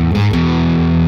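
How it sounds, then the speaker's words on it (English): Distorted electric guitar riff leading into a sustained power chord, played as part of a song lesson; loud and continuous, with thick overdriven tone and a brief chord change early before ringing out alone. "Then you have another one going still with the riff and power chord with more distortion."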